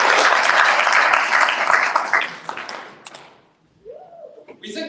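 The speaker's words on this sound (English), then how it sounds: "A round of applause for our volunteers." A crowd applauds volunteers at a talk, a dense burst of clapping that fades out after about three seconds, followed by a quiet pause and then a voice speaking.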